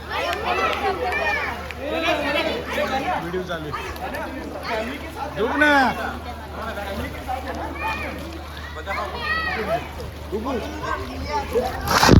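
Water splashing and sloshing as people bathe and play in it in Goa, mixed with lively chatter and children's voices throughout.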